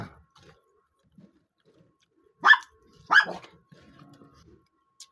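Two loud dog barks ring out close by, a second apart, in an otherwise quiet setting.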